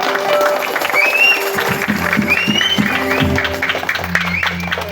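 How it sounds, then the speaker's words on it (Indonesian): An audience at a Mamanda folk theatre performance in Hulu Sungai Tengah, Indonesia, claps in a dense burst of applause, with voices talking and calling out over the clapping throughout. "Tepuk tangan dulu untuk kami."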